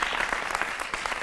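Studio audience applause welcoming a guest onto a televised Hindi political debate about Ayodhya, a dense burst of clapping that stays steady and loud throughout.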